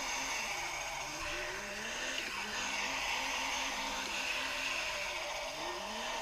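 A car in the DR!FT Racer video game slides in a handbrake drift. A continuous synthetic engine drone plays under a rising tire-skid screech, steady and fairly loud throughout.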